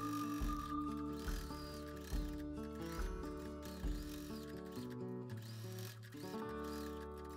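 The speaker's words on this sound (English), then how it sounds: "top stitching all the way around the straps" A sewing machine top-stitching around fabric apron straps runs in a steady, close mechanical chatter, its repeating needle and feed rhythm clicking continuously with slight pauses and restarts.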